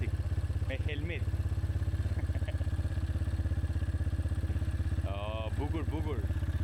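A Shineray VZR 300 motorcycle idles close by with a steady, rapid engine putter and slight clatter, running under people talking.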